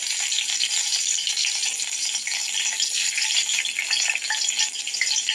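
Green chili and chopped garlic sizzle steadily in hot oil for an aloo baingan tempering, a dense, close, continuous frying hiss with no talking.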